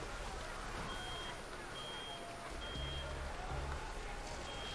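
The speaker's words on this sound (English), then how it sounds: "What's that sound? Some kind of alarm?" An alarm in the game Chronicles of Uluru: London Dawning, sounding as short repeated high beeps at even intervals over a constant low machine rumble, faint and with no talking.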